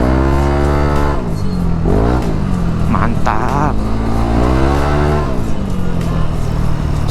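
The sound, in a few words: motorcycle racing exhaust revving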